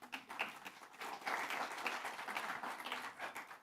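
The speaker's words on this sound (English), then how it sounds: "Give each other a warm applause." A conference audience at an opening session gives warm applause, a fairly quiet, uneven patter of many hands clapping with some louder individual claps, steady throughout.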